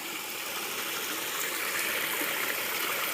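Pipe Spring runs beside a shelter on the Appalachian Trail, its stream flowing in a steady, close, rushing babble with no voices over it.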